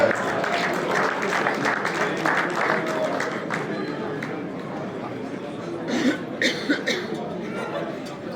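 Audience applause at a motor club prize ceremony, moderate clapping mixed with crowd murmur and a cough or two, with a few louder individual claps standing out near the end.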